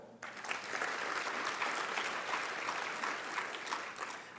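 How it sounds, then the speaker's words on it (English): Steady applause from an audience at a school district Teacher of the Year ceremony, thanking event sponsors; dense clapping holds evenly for several seconds without talk. "Let's give them a round of applause."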